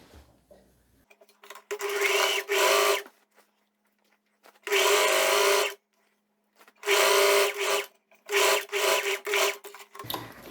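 An overlock machine stitches the crotch seam of a viscose-linen jumpsuit, running in several bursts of one to two seconds with short quiet gaps between them, close and fairly loud, with no talking.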